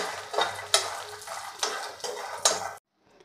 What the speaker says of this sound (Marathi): आता हा मखाना सुद्धा आपल्याला मंद गॅसवर छान असा भाजून घ्यायचा आहे।